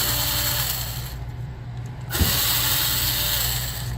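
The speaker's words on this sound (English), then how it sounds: "I'm going to use my #1 Phillips bit and my cordless here just to wrap these out of there real quick" Cordless drill fitted with a #1 Phillips bit backing screws out of an HP 15.6-inch laptop case, a steady close whirring motor with a brief quieter pause midway and a small click as it restarts.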